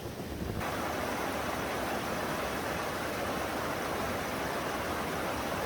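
Small waterfall in Norway in cold winter weather, a constant broadband rushing roar of falling water, steady and close, with no voices.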